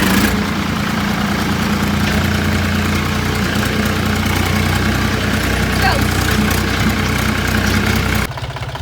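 A tractor engine runs steadily close by off-road, a loud low rumble with constant vibration, cutting to a quieter idle near the end.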